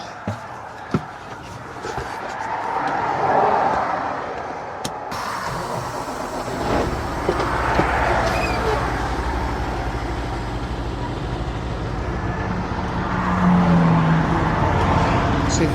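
Cars and trucks roll past at a highway rest area near Castlegar, a steady engine rumble swelling and fading as vehicles go by, with a large truck idling close.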